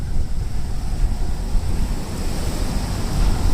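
Wind blows outdoors during a walk in Tokyo along the Tamagawa Josui, a loud, continuous, low buffeting rush against the microphone that covers everything, with no voices heard.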